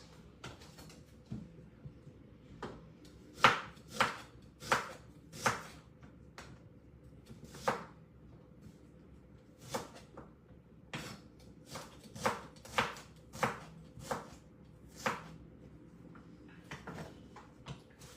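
A knife cuts onions on a board for pares, producing scattered, moderately faint taps at an uneven pace over a low background hum.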